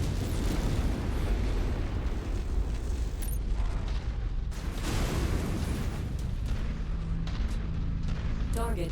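Missile explosions in the MechWarrior 5: Mercenaries video game, a dense run of booming blasts and rumbling impacts that stays loud for the whole stretch, with brief synthetic beeps in between.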